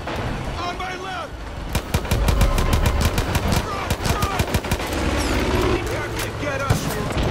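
Gunfire and explosions fill a Far Cry 5 firefight, with rapid automatic bursts and scattered single shots. Heavy booms land close and loud, and excited player voices shout over the shooting.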